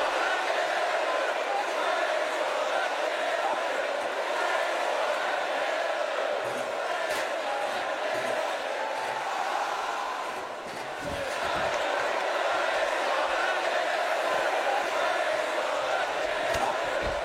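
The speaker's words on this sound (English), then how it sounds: "You hear the crowd saying Bray is going to kill you?" A large wrestling arena crowd chants during a Bray Wyatt match, a loud, continuous roar of massed voices with rhythmic chanting that dips briefly midway, with occasional thuds underneath.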